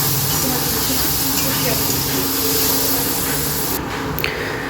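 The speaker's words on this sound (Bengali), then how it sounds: "এই মিষ্টি কুমড়া ভাজাটা আমি বসে দিয়েছিলাম" Slices of sweet pumpkin fry in a pan with a loud, steady sizzle and hiss that continues throughout, while a voice speaks over the cooking.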